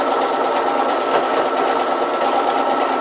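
Sewing machine stitching a small zigzag while making a zip pouch: a steady, loud, continuous mechanical whir runs close and unbroken with no talking.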